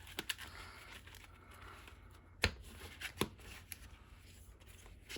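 A deck of Yu-Gi-Oh cards being shuffled, heard as a few soft riffling bursts and sharp card snaps spaced over quiet, faint and close, with no talking.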